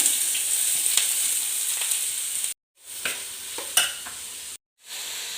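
Finely chopped onions frying in coconut oil in a pan for veg cutlets, a bright steady close sizzle with occasional spatula scrapes, cut off by two short silent gaps.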